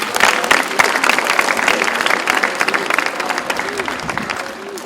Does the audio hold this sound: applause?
yes